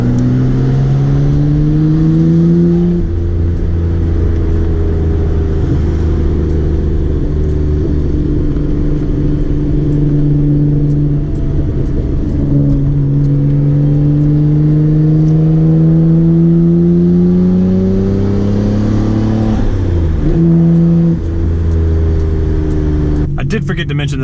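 A Nissan R32 GTR fitted with an R33 engine, driving and revving: a loud, continuous engine drone from inside the car, rising and falling through gear changes over about twenty seconds.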